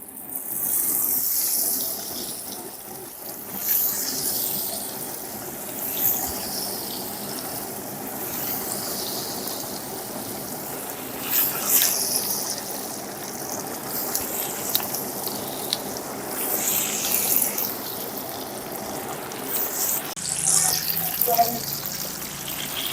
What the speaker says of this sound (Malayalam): അപ്പോൾ അതിലേക്ക് നമുക്ക് നമ്മുടെ ചിക്കൻ ഓരോന്നോരോന്നായിട്ട് ഇട്ട് കൊടുത്ത് ഒന്ന് ഫ്രൈ ചെയ്തെടുക്കാം